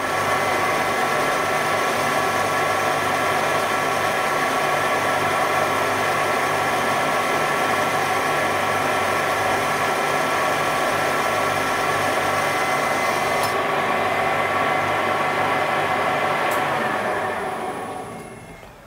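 A Warco GH1440 lathe runs on an AT-1 variable frequency drive, a loud steady hum with strong tonal whine held evenly for many seconds, then winding down at the end.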